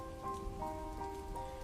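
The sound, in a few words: rain outside during thunderstorm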